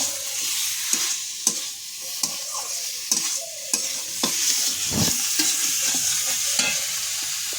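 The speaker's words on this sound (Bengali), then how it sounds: "কাঁকড়াটা দিয়ে এবার কষিয়ে নেবো।" Crab sautéed in ground spice paste sizzles steadily in a pan while a spoon scrapes and stirs, with intermittent sharp clacks of utensil against metal over a constant frying hiss.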